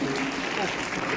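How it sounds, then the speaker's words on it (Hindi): A dense, continuous wash of clapping from a crowd, loud and steady throughout, with voices mixed underneath. "ताली बजाइएगा इस बच्चे के लिए।"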